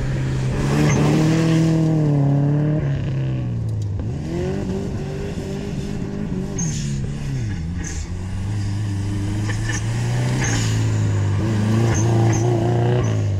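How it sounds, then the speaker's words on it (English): Porsche 944 rally car driving a rallycross course, its engine loud and close with rising and falling revs as it accelerates and shifts, running steadily for the whole stretch. "Here comes the first car now."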